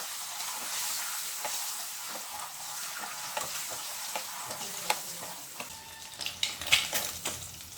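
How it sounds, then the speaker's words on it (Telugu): Eggs fry slowly in oil with turmeric for an Indian egg pulusu, a steady close sizzle with scattered crackles and scraping stir sounds growing busier toward the end. "ఇప్పుడు మనం ఎగ్స్ ఫ్రై చేసుకుందాం మెల్లిగా."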